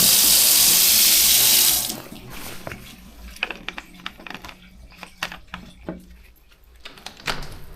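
Water gushes loudly from a tap for about two seconds, then stops, followed by scattered knocks and clatters nearby.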